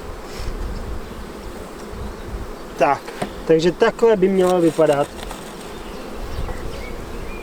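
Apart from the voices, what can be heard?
honeybees buzzing at an opened hive during inspection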